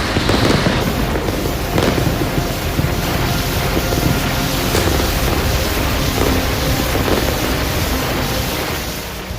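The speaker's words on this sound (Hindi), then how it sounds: "यूक्रेन ने रूस के रॉकेट गोदाम पर एक बम गिराया और उसके बाद सिलसिलेवार धमाके शुरू हो गए।" Serial explosions at a Russian rocket depot struck by a Ukrainian bomb, heard as a continuous loud, broadband roar with repeated bursts and cracks, dense and sustained throughout, tailing off slightly at the end.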